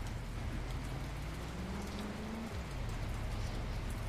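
Rain in a Garry's Mod game, a steady, dense hiss of falling drops heard throughout, with a low engine-like hum rising and falling underneath, no talk.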